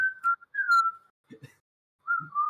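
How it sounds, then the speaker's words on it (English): A person whistles a few short, wavering tones in broken phrases, close and fairly loud, with a brief bit of quiet voice between them. "I can whistle."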